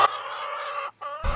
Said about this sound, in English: We have the room to have chickens.